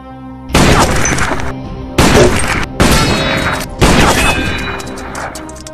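Four heavy sniper rifle shots from a film, each a loud sharp blast with a long ringing reverberant tail, spaced roughly one to two seconds apart.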